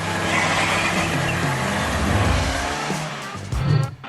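A cartoon car drives away with a loud engine drone, swelling and shifting in pitch, then a brief rough surge near the end; no talking.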